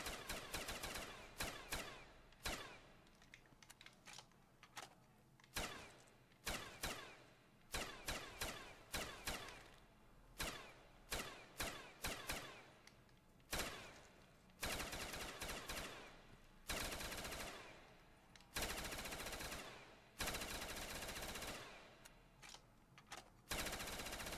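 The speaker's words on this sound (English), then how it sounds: "I don't even know what I was shooting at right there" Rapid automatic gunfire bursts in a Call of Duty custom zombies map called The Waiting Room, loud and repeated in short and longer volleys with brief gaps, no talking over it.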